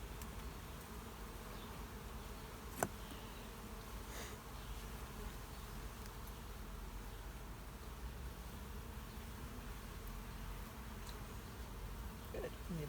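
Honey bees buzz steadily around an open hive during a midsummer inspection, a close, continuous droning swarm with a few brief knocks from handling.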